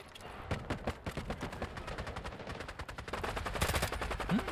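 Rapid automatic fire from a K416 rifle in the shooter game Delta Force, long bursts of fast, evenly spaced shots that grow denser and louder toward the end.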